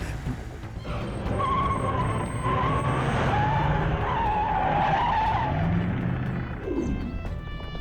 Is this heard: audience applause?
no